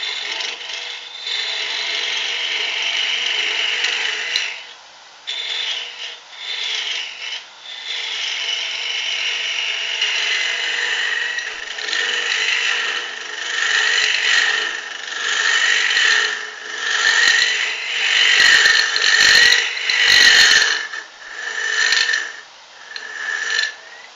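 A gift piece of wood being hollowed on a woodturning lathe, a continuous scraping, rasping cut that runs steadily for over twenty seconds with brief pauses and a few sharper bursts of chatter near the end.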